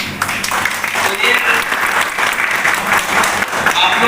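Crowd at a tribal community gathering in Rairangpur, Odisha, clapping in support of a proposal for an Adivasi religion code in the census; steady, dense applause fills the whole stretch at close range.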